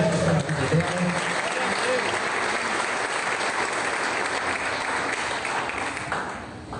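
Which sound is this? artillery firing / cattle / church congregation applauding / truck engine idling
church congregation applauding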